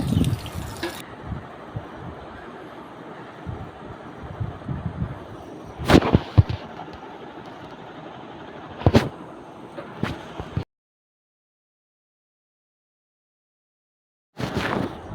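Onion, green chili and tomato frying in a pan outdoors, a dense crackling sizzle with sharp pops and bursts that cuts out abruptly, then briefly resumes after a few seconds of silence.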